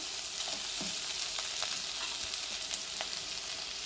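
Bitter gourd frying in a pan, a steady close crackling sizzle with a few soft clicks of stirring, no voices.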